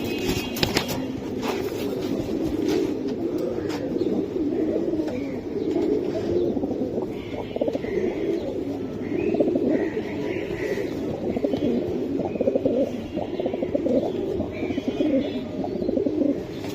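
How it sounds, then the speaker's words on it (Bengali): Hammer pigeons coo steadily in low, throaty rolls, several birds overlapping close by, with faint chirps and background rustle throughout. "এটা হ্যামার কবুতর ভাই"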